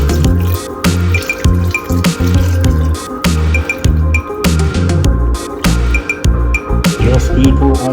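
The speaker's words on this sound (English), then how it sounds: "Now, my coconut milk. Shake it up before I add it in." Shaken coconut milk pours into rice for sardine and coconut milk seasoned rice, making a loud, close, continuous run of wet squishing and dripping glugs.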